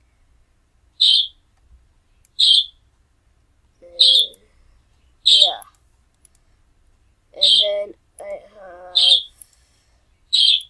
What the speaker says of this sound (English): sorry for the background noise, my bird is chirping.